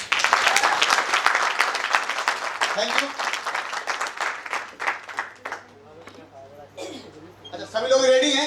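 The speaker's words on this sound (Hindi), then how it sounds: "अब मैं चाहूंगा कि एक बार आप लोग अपने लिए मेरी तरफ से एक बार तालियां बजाएं।" A seminar audience in Delhi claps loudly for several seconds in a dense, steady round that thins out, followed by a speaker's brief voice.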